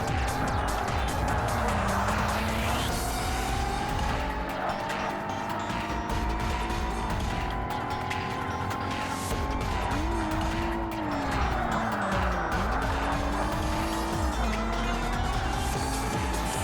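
Race car engine roaring continuously in Forza Motorsport (2005), with rising and falling revs through gear changes and tires squealing in skids, loud and steady throughout.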